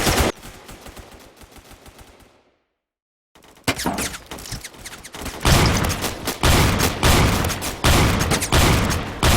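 Shotgun blasts from a KSG in the Roblox game Phantom Forces ring out in loud, rapid bursts, with a brief silent gap before a fresh run of heavy, repeated shots.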